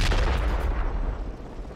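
Heavy gunfire in the Project Reality military game: a loud, booming volley with rumbling low end that fades away over a couple of seconds, with no voices.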